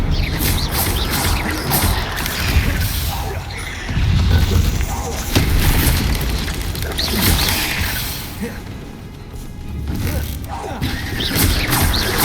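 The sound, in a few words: spell blasts (Confringo) cast in Hogwarts Legacy video game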